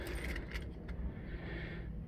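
Car keys, a master key and a backup with a factory remote start fob, jangle softly in the hand for a couple of seconds, close up and fairly quiet over low background rumble.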